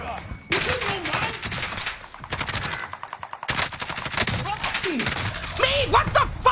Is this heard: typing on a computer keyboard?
no